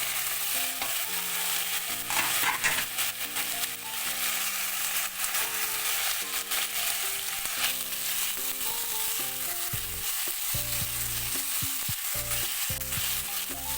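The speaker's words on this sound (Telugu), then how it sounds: "బాగా మెత్తగా మగ్గేదాకా మనము ఫ్రై చేసుకుందాము" Tomatoes, green chilies and garlic fry together in a pan, a continuous close sizzle with repeated stirring and scraping throughout, music playing underneath.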